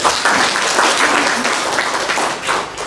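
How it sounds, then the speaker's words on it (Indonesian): Audience applause for the people of Rote during a governor's working visit to Rote Ndao, a dense, steady roll of many hands clapping loudly throughout, with no speech over it. "Tepuk tangan untuk orang-orang Rote."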